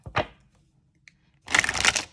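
Large glossy oracle cards with silver-gilded edges are shuffled by hand: a short riffle, a pause with a faint tap, then a denser burst of slapping, flicking card sounds, close and alone.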